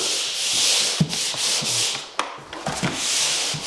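Drywall joint compound is sanded by hand, a steady close-up rasping rub in long strokes, broken by a few soft knocks and scrapes, with no talking.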